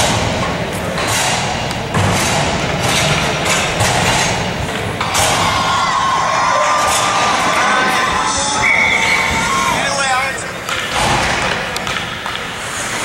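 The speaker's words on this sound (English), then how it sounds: "Sound like the crowd here." Crowd at an alpine ice hockey game cheering and shouting loudly and continuously, with thuds from the rink and a few sharp whistles over a dense, near roar.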